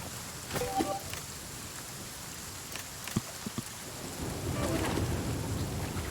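Rain and thunder in the survival video game The Flame in the Flood: steady rainfall hiss with several sharp thunder cracks and rumbles, heaviest toward the end, with no talking.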